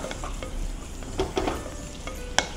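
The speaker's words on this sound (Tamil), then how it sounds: "ஸோ இந்த வெங்காயத்தை நல்லா வதக்கிட்டு வந்துட்டுருக்கோம்" Onions sautéing in a pan for pudina (mint) rice, a steady soft sizzle with a few stirring scrapes and a brief clink near the end, no talking.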